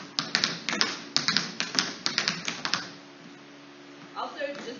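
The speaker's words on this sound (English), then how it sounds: "You're trying to make your taps click" Tap dance shoes click crisply in quick shuffle patterns, a run of sharp near metallic taps in uneven rhythm before a pause with a soft voice at the end.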